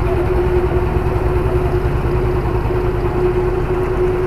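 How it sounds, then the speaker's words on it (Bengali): Trawler boat engines running at a river ghat as boats depart, a steady, loud low droning rumble with a constant hum, continuous throughout with no talk. "একের পর এক ট্রলার এখান থেকে ছেড়ে যাচ্ছে।"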